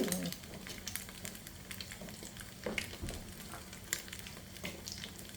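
Sausage gravy cooking in a pan, a steady close sizzle and bubbling crackle with occasional stirring scrapes, a voice briefly heard at the start.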